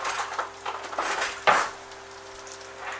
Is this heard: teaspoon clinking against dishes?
yes